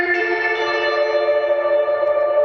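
A sustained synth chord holds steady, thickened by a shimmering chorus and washed in spacious hall reverb.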